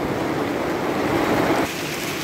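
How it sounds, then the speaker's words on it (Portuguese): Heavy rain with big drops beginning to fall in Bahia, a dense continuous hiss and patter, loud and close, easing slightly toward the end. "Pense numa chuvinha grossa"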